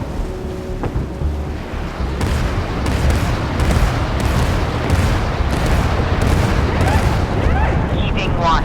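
Naval artillery in the warship game Force of Warships fires as a dense, continuous barrage of heavy booms and rumbling blasts, loud and close, with radio-style voice lines over the top.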